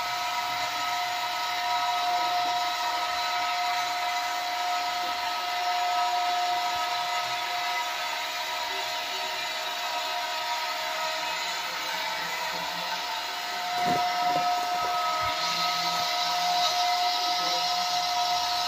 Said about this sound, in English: the conveyor belt start moving downside